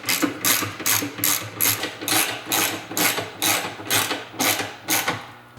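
A ratchet tightens the pinch lip bolts of a power running board on a Dodge Ram Mega Cab, with rapid clicking in about a dozen even back-and-forth strokes, close and steady, and no talking.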